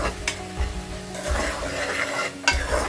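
Keema sautéing with yogurt in a pan, a soft sizzle broken up by the scrape and clatter of a spoon stirring against the metal, fairly quiet and close, with no voices.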